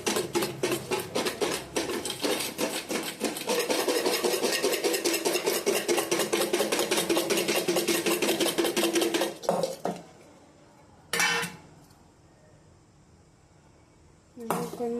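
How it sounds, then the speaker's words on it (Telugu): A spoon scrapes and clinks against a pan as spiced food is mixed, in quick, rhythmic strokes for about ten seconds, followed by near quiet with two brief clatters. "ఇప్పుడు కలుపుతున్నానంటే కలుపుతున్నాను"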